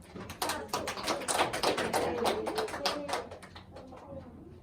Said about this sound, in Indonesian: Kita bisa berikan aplaus dulu.